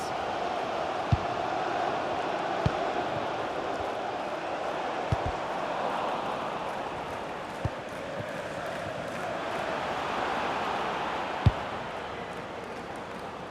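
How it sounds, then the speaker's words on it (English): A stadium crowd in a FIFA World Cup football video game sends up a broad, steady roar throughout, with a few sharp thuds standing out above the sustained noise. "Well, just listen to this crowd."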